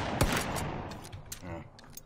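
AK rifle fire in a battle royale video game, a quick burst of sharp shots amid game sounds and background noise.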